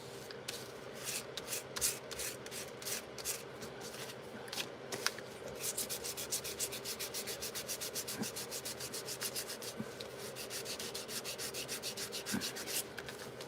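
Paper structural pieces being sanded hard, a steady close scraping rasp with rapid repeated strokes running nearly nonstop, no talking.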